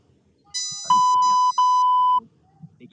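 A steady electronic censor beep, two long tones with a brief gap between them, covering a voice; faint speech fragments sit before and after.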